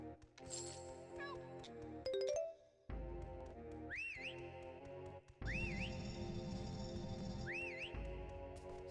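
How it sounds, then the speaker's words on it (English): A character in the Banjo-Tooie video game gives several short, bright rising whistles over looping game music, with chimes and tinkles between phrases. "Stop whistling. I'm getting to you."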